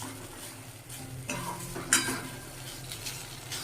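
Spatula stirring mashed flat bean bhorta as it dries in a pan, giving steady scraping and soft sizzling with a few clinks of utensil against metal, close and alone.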